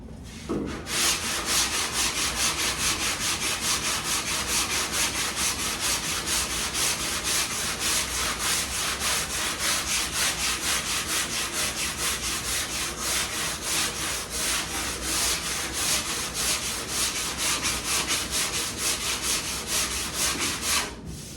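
A sanding block works primer on a car fender down toward bare metal, a continuous close scratchy rubbing with rapid even strokes that holds steady throughout, alone without voices.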